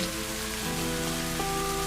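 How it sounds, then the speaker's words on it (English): Steady rain falls in a dense, even hiss that never lets up, with soft sustained musical tones running underneath. "You lift your arms and raise your face to the sky as you fully embrace the rain's caress"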